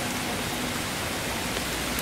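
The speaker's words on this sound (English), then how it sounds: "Ooh, we have sizzling going on, people." Spam fries in a pan over a camp cook setup in the woods, giving a dense, steady sizzle that stays even and fairly loud throughout, with no voices.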